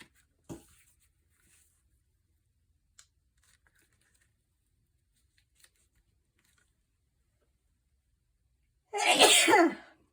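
A single loud, close sneeze bursts out near the end of a quiet art-journaling session with a gel plate, following long near-silence broken only by a few faint taps and handling sounds.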